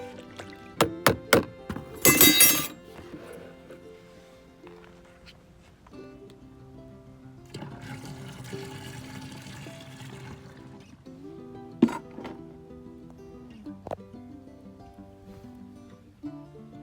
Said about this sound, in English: then we're going to fill the sprayer up with the rest of the way with vinegar